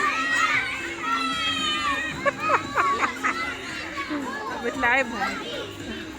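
Children at a pool party play a game together, shouting, laughing and chattering over one another in a lively crowd, with someone speaking among them.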